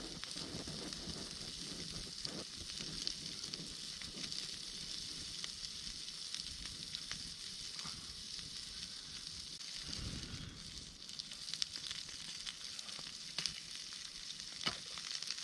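Thin steaks frying over an outdoor campfire give a steady, faint sizzle and crackle throughout, with occasional small pops and no voices.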